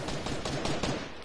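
Rapid gunfire in a shooter video game, a quick burst of repeated loud shots fired close up.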